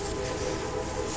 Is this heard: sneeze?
no